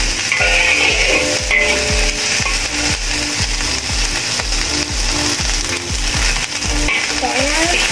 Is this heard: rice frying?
yes